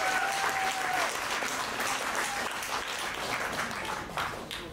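An audience at a Kazakh folklore school's anniversary concert applauds dombra players, a dense, steady burst of clapping that slowly fades near the end.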